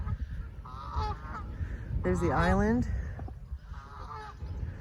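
Geese honk at a pond, with a loud burst of repeated honking in the middle and fainter calls before and after, while a person talks nearby.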